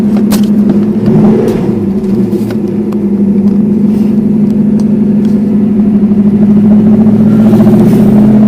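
Porsche 928 with a five-speed dogleg gearbox, its engine droning steadily from inside the car, with a brief surge and a shift near the start and then an even, sustained hum.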